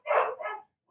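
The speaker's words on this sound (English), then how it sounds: "I'm assuming that dog's barking behind me." A dog gives two quick barks in the background, close together and moderately loud, followed by silence.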